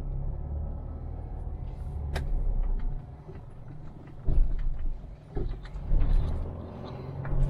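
A van on a road gives off a low, continuous rumble of engine and tyres from inside the cab, rising and dipping with a few thumps and bumps along the way.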